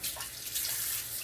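Water poured into a pot for pulled pork shoulder, a short steady splashing rush heard close and fairly soft, with no talk.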